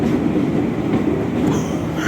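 The Pandalungan passenger train rumbles past close by at Tambun station, a steady heavy roar of wheels and carriages with faint clatter, no voices.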